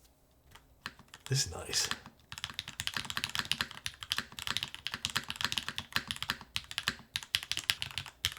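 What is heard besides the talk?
typing on mechanical keyboard with 1.2 mm PCB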